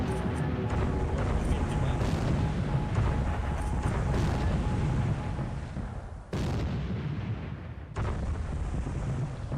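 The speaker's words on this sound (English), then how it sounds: "Ooh, another explosion on main deck." Naval battle in a war video game set in the Spanish Civil War, with a dense, continuous roar of shipboard explosions and gunfire that cuts out briefly twice, and a voice talking faintly underneath.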